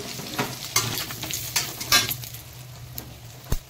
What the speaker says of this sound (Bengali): এবারে এই চিংড়ি মাছের তেলেতেই আমি শুকনো লঙ্কা আর জিরে আর কসুরি মেথি ফোড়ন দিয়ে দেবো।